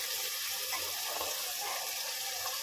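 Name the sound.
boiled potatoes added to spiced oil, frying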